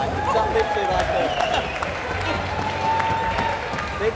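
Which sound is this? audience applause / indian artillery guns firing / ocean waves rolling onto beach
audience applause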